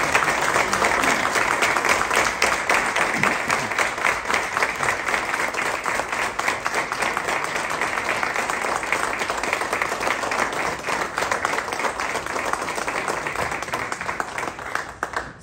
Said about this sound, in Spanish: dediquemos un muy fuerte aplauso